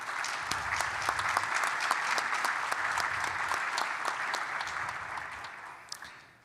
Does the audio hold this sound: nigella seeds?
no